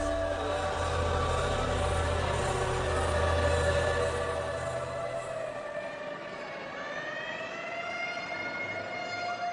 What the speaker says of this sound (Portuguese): a ambulância corria para a clínica Santa Eunice, em Owerri